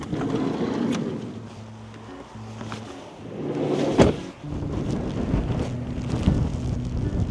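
Gusty wind buffets the microphone outdoors at the Three Sisters in Glencoe, Scotland, in wet weather, with low rumbling bursts swelling and easing throughout, including a sharp louder gust midway.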